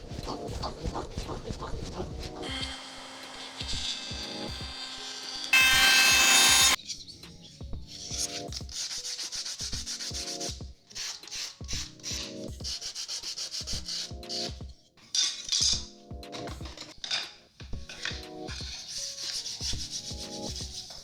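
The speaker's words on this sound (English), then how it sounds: "I'm going to show you how we finish them with little rounded edges and some sandpaper" Sandpaper is rubbed over the rounded edges of small wooden cutting boards in repeated close scraping strokes, with short pauses between passes and a few knocks of the wood being handled.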